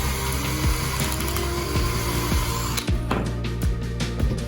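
A hand-cranked apple peeler working through apples, giving a steady mechanical whir with repeated ratcheting clicks and gear noise, loud and close throughout.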